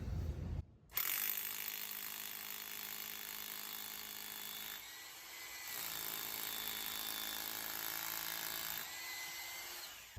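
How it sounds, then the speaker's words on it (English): A medium-sized hammer drill runs steadily and loudly into a concrete basement wall with a harsh grinding whine, pausing briefly once before resuming, no voices. "with this medium-sized hammer drill, makes quick work of drilling this concrete"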